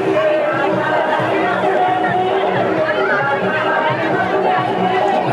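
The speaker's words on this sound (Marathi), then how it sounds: "लोकांची गर्दी फूड फेस्टिवलमध्ये वाढत आहे" Steady crowd chatter at a local food festival with stalls, many voices overlapping into a close, continuous hubbub without any single clear speaker.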